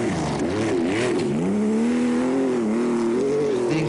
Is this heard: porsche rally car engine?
yes